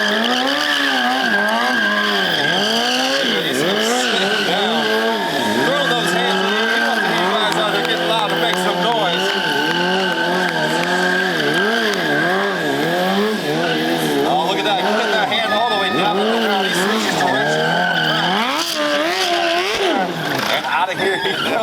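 Loud screeching squeal of a BMW stunt motorcycle spinning its rear tire, rising and falling in pitch with engine revs throughout, an announcer talking over it at a stunt show.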